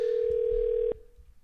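A telephone call rings out unanswered, heard as a steady single electronic tone that holds for almost a second before cutting off abruptly, leaving faint low background noise.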